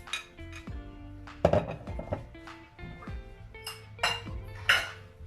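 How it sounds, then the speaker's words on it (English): A spoon stirs granulated sugar into apple fritter batter in a bowl, giving several sharp clinks and scrapes against the bowl at an irregular pace, close and moderately loud, with no talking. "And we're going to just stir, let it incorporate."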